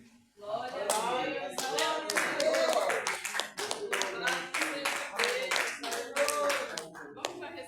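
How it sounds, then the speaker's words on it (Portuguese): A church congregation claps joyfully in a fast, steady rhythm, many hands striking together loudly and continuously, with voices mixed in. "As palmas bem alegres."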